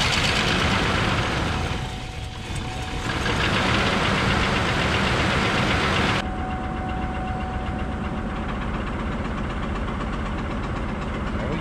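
A carbureted-style engine running on a makeshift gas fuel system with an electric fuel pump, knocking and idling steadily at close range for the whole stretch, its tone shifting partway through, with no talk.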